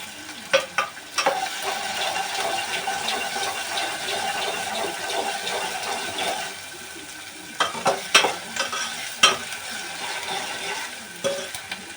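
Green chillies frying in a pan for a hotel-style egg curry, a sustained sizzle broken by bursts of spatula stirring and scraping that come and go.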